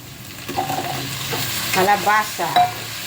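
Pumpkin added to ikan bilis anchovies sautéing in a pan for ginataan kalabasa: close stirring and scraping with a soft sizzle, growing a little louder toward the end, with no speech.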